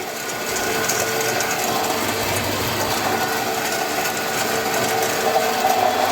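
A pellet granulator machine runs steadily with a dense mechanical whir and rattle, sand crackling and grinding inside throughout, loud and close with no talk.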